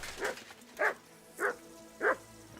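A dog barks in the video game Kingdom Come Deliverance II, giving four short, evenly spaced woofs at a moderate distance over a quiet game background.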